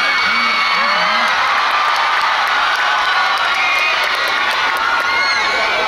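Concert crowd roaring, loud sustained cheering, whoops and shrieks layered over clapping, with a voice briefly audible over the noise.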